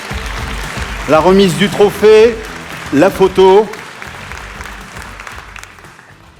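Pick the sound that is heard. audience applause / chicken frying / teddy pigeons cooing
audience applause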